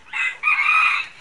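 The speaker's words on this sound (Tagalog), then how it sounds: "ayan, sumasabayan naman yung manok" A rooster crows nearby at a small neighborhood store under renovation, a short two-part call, a brief opening note then a longer sustained crow, loud and clear with no talk.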